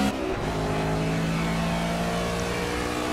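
A BMW GT touring car's engine drones steadily and loudly in the racing game Project CARS, a sustained tonal whine holding throughout with no speech.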